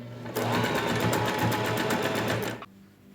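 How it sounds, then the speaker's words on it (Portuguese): A domestic sewing machine runs in one close, steady burst of rapid stitching through layered fabric with the presser foot held tight to the edge, starting and stopping abruptly. "Certifica e continua a costura, ó, com o pezinho bem rente."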